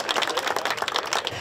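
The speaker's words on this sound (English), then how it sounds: "Round of applause, ladies and gentlemen" Brief burst of audience clapping at a classic car show as a restored Chrysler coupe is revealed, a quick, moderately loud patter of many hands.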